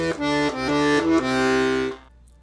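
48-bass accordion left-hand bass notes played alone in a short pattern in C, several reedy sustained tones stepping between pitches, close and steady, ending with a held note that fades.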